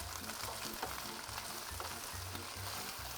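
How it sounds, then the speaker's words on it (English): Garlic being stirred into tomatoes and spinach frying in a pan, a soft, even sizzle with repeated low scraping strokes from stirring throughout the short stretch, and no talking. "add our garlic. And gently stir our ingredients."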